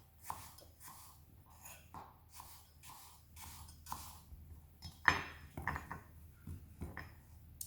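Apples being sliced by knife on a work surface for crumble, a series of soft rhythmic cuts and taps, quiet and close, with a louder cluster of clinks against a dish near the end.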